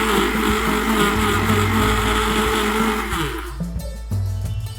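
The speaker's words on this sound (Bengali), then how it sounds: "এবং ব্লেন্ডারের সাহায্যে সামান্য পরিমাণে ব্লেন্ড করে নেব।" Blender whirring steadily while mixing a yogurt drink with mint leaves and salt, a loud motor drone that cuts off after a few seconds into short bursts.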